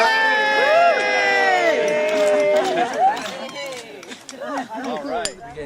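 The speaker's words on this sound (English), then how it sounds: "Okay, come on and cheer." Crowd at a passive house groundbreaking cheering and whooping for a few seconds, loud and close, with voices and chatter mixing in as the cheer fades.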